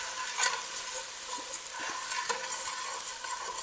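Tempeh with garlic and onion stirred in a pot, soft scraping and gentle sizzling at close range with occasional clinks of the utensil against the pot, no voices.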